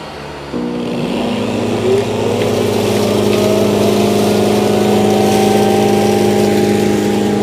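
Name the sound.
Shark IQ robot vacuum auto-emptying at its dock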